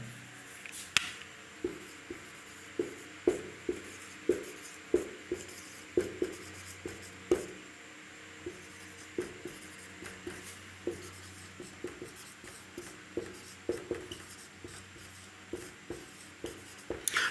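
Writing on a board during a chemistry lesson on the periodic table makes a close, steady series of short scratching strokes and taps, repeating rhythmically for over fifteen seconds with almost no voice.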